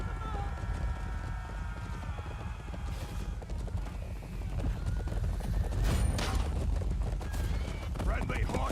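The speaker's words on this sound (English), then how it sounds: "Friendly horses incoming! Horsemen approaching!" Horses galloping in a Chivalry 2 medieval battle, a steady drumming of hooves under constant battle noise and clashing, with shouted voices over the top.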